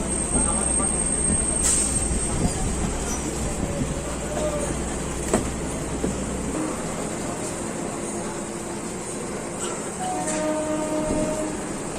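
A Katowa–Howrah local train pulls out of Belerhat station: steady rumbling rail noise with a sharp horn burst early on, low engine drone easing after a few seconds, and faint squeals and clatter continuing throughout.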